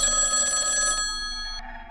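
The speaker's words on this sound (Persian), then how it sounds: "برای بار سوم تلفن زنگ خورد." Telephone bell ringing as a sound effect in a narrated story, a loud, steady electric ring with bright metallic tones that stops abruptly, leaving a short fading echo.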